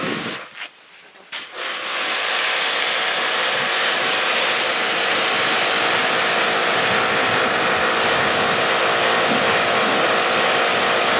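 A pressure washer rinses a car, starting with a couple of short bursts and then settling into a loud, steady, close hiss of spraying water with no voices.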